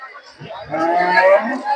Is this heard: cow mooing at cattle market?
yes